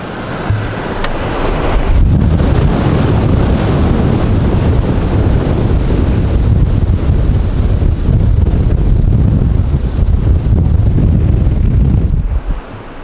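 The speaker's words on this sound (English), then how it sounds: "There's tumbleweeds everywhere, and it's 60 miles an hour wind, here." A strong 60 mph wind outside a tent in tumbleweed country, heard with a camera held out the window, roars and buffets the microphone in a loud, steady, low rush that keeps building for about ten seconds.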